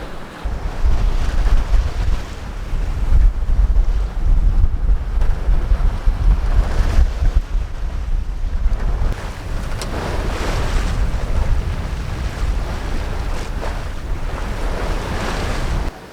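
Strong wind roars and sea waves wash against a sailboat crossing the Sea of Cortez, a loud, continuous rushing with heavy low-end buffeting.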